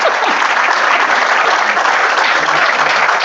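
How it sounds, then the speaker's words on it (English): A studio audience gives a loud, sustained round of applause, thick and even clapping from many hands that fills the whole moment without letting up. "That deserves a round of applause."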